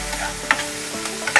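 Masala being stir-fried for a Malvani-style fresh cashew curry over a medium flame, with soft sizzling and a couple of sharp spatula scrapes against the pan, close and brief.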